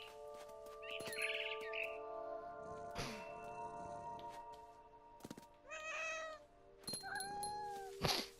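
Cat meowing in the video game What Remains of Edith Finch, several drawn-out meows and caterwauls over steady game music, with faint bird chirps nearby.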